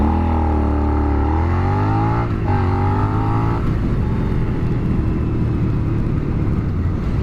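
A 2017 Suzuki SV650 motorcycle accelerating: a loud, close engine roar rising in pitch through the revs, a brief dip at a gear change, then settling into a rough, steady drone with heavy wind rush.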